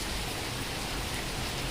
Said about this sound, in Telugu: మొత్తం వచ్చేస్తుంది వర్షం.